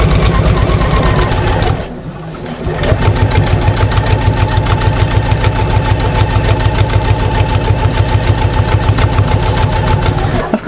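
A sewing machine stitches a fabric shopper bag with a loud, fast, rhythmic mechanical chatter, pausing briefly near the start before resuming steadily at close range.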